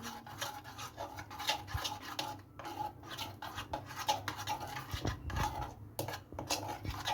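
A spoon or utensil stirs pasta salad dressing with lemon juice in a bowl, making close, rhythmic clinks and scrapes, with soft breathy panting-like noises between strokes.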